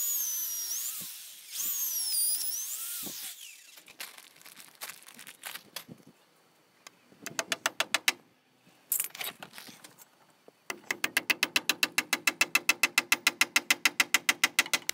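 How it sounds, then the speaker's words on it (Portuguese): Drilling into roof timber for a concrete-tile roof: bursts of drill whine and crackling, then rapid rhythmic series of sharp pulses, close and fairly quiet, with pauses between. "Agora é só furar e pregar."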